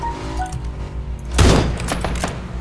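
A single loud burst of gunfire from PUBG (Battlegrounds), a broadband crack with a short rumbling tail midway through, over a low steady game background hum.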